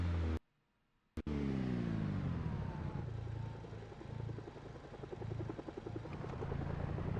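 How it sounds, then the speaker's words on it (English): A helicopter passes overhead with a loud, steady rotor throb that swells and then slowly eases, after a brief silent gap at the start. "I did hear the helicopter."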